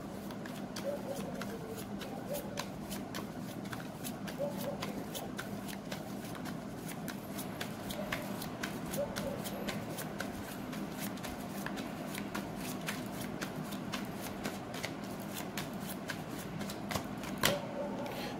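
Tarot cards are shuffled in a long, steady riffle of rapid flicking clicks, close and continuous with occasional sharper snaps.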